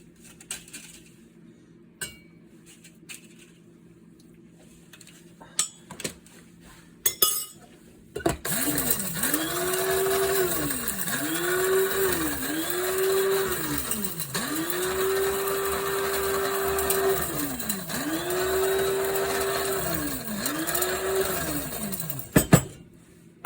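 Kitchen blender grinding dry whole spices for homemade biryani masala, starting after a few quiet clinks. It runs loud and close in several pulses, its whirring motor rising and falling in pitch, before a final clink.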